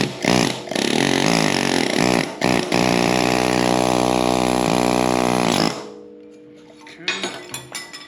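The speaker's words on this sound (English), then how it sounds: "It's a friggin' air hammer right here." A loud, continuous pneumatic air hammer rattles for several seconds with a couple of brief pauses while working on a John Deere 190E excavator, then cuts off, leaving quieter clanks and rattles.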